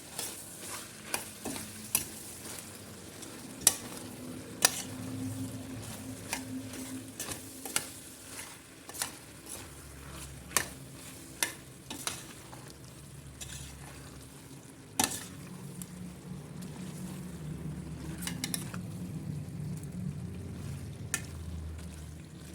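Meat kavurma seasoned with black pepper and salt stirred and frying in a pan, with a steady sizzle broken by repeated sharp scrapes and clanks of a spoon against the pan.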